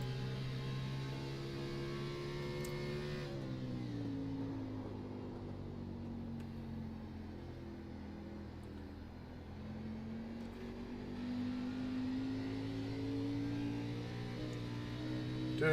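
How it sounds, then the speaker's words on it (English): A race car circles a dirt track, its engine a steady, loud droning hum that dips and climbs in pitch through the corners, continuous and without voices. "Garrett Kinder continues to almost dirt track this car around the track."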